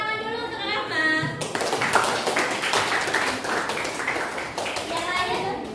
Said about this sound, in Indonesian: Tepuk tangan dulu untuk Rahmat.